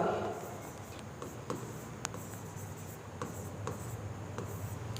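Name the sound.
writing on paper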